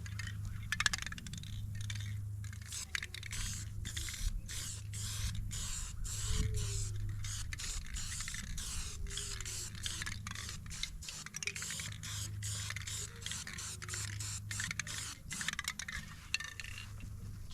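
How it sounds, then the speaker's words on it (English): An aerosol spray paint can held upside down hisses in steady bursts against a jeep door under repair, close and continuous, with scrapes and faint clinks between passes. "Turn your can upside down and spray it."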